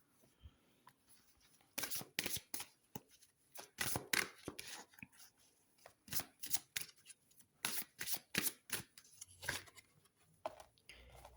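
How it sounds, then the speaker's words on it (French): Tarot cards are shuffled by hand in close, quiet bursts of riffling and flicking, repeated in an irregular rhythm of short rustling strokes with brief pauses between them. "Je vais reprendre juste quelques cartes."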